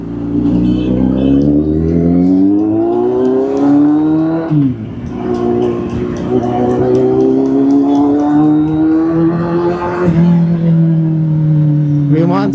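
A car engine revs loudly and continuously, its pitch climbing in long sweeps with two sharp drops near the middle and end as gears change, while a voice talks faintly underneath.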